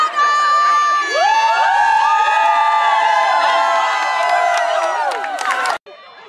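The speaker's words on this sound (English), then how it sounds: "Senn fans cheered hard for their Bulldogs" Senn Bulldogs fans cheer at a high school homecoming football game against Sullivan, a loud sustained roar of shouting and whooping voices, many high-pitched, with a little clapping, cutting off abruptly near the end.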